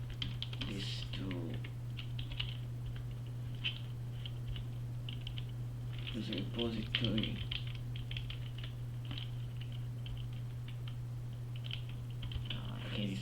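Rapid keystrokes on a computer keyboard during a developer's coding session, clicking in uneven bursts over a steady low electrical hum, with a person speaking briefly in between.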